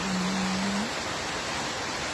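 Heavy rain pours in a constant, even wash of hiss with no breaks or voices, with a short tonal sound near the beginning.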